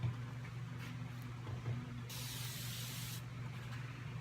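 A spray bottle mists water onto paint for wet blending, one sustained close hiss of about a second over a low steady background hum, with fainter short spritzes around it.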